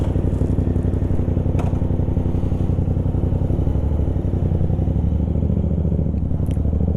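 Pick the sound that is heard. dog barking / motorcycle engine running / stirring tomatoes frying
motorcycle engine running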